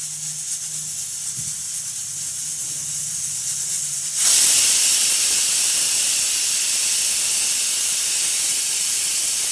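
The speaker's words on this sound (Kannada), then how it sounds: "ಕುಕ್ಕರ್ ಒಂದು ಐದು ವಿಷಲ್ ಕೂಗಿಸ್ಕೊಂಡಿದ್ದೀನಿ" A pressure cooker full of mutton starts venting: a faint steady hiss builds, then a loud rushing burst of steam whistles and holds steady for several seconds, close and without talk.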